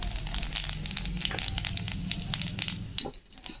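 Cumin seeds hit hot fish oil with a dense, steady sizzle and crackle that holds at close range, then thins and quiets toward the end.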